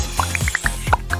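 Air blown through a bottle into water makes quick gurgling bubble pops, a rapid run of about ten close, loud bloops over roughly a second.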